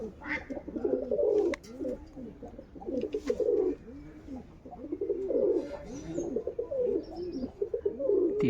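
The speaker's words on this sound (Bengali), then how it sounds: "এটা কবুতর আসছে কবুতর উঠে গিয়েছে দেখো" Pigeons cooing nearby, repeated low rolling calls in overlapping bursts throughout, with a few faint chirps behind them.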